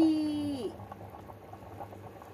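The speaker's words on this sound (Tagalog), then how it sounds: "45 minutes na siyang kumukulo" A pot of sweet corn and carrot soup boils with a soft, continuous bubbling hiss after a short rising tone at the start, close and moderately quiet.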